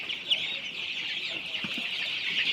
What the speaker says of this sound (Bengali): মুরগিগুলো দেখেন পানি খাওয়ার জন্য কীরকম করতেছে